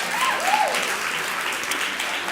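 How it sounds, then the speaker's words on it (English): Lively audience applause at a live tech and innovation event, a dense, even crackle of many hands clapping, with a brief rising whistle or whoop cutting through early on. "Another round of applause for her, please."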